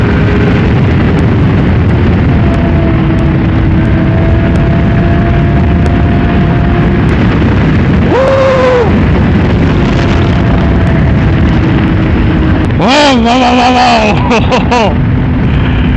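A 2010 Baby King motorcycle roars loudly under heavy wind rush while being ridden, its engine pitch climbing sharply as it accelerates twice, once midway and again near the end.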